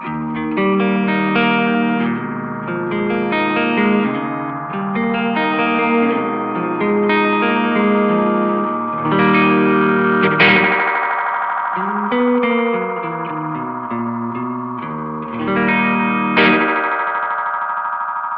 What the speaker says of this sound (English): it kind of goes into almost like self-oscillation. Metallic-y thing.